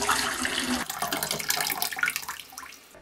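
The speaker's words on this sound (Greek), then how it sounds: "Αφού περάσαν 5-6 λεπτά θα αδειάσουμε το νερό." Water pours and splashes as it is drained from a pot of soaked small onions into a sink, a loud gushing stream that tapers off toward the end, with no talk.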